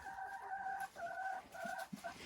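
Dominant breed hens kept indoors on a farm give drawn-out, tuneful calls in several repeated phrases with short gaps, moderately close and alone against a quiet background.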